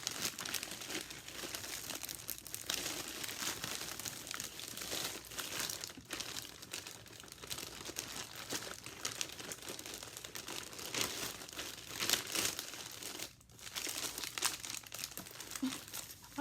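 Plastic packaging from a Temu haul crinkles and crackles continuously as it is cut open and handled, close and fairly quiet, with occasional tearing sounds and brief pauses, no talking.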